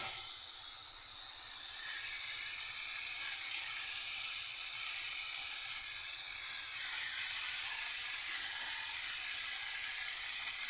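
Steady loud hiss and sizzle as washed, chopped water spinach greens hit a pan of spiced curry base that has been cooked down, a continuous frying roar with no talking.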